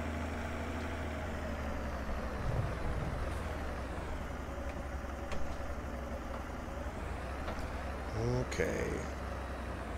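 Small tractor engine idling in Farming Simulator 22, a steady low rumble throughout with occasional clanks and a hiss, while someone speaks briefly over it.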